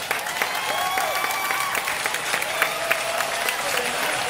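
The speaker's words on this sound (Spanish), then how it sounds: "Fuerte el aplauso." A crowd applauds guest musicians at a rock band's live show, with dense, sustained clapping and a few whistles, loud and close throughout.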